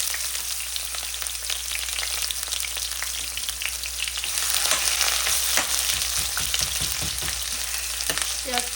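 Prawns with radish frying in a pan in a home kitchen in Canada, giving a dense, continuous hiss and crackle that swells slightly midway, with occasional stirring clatter and no voices.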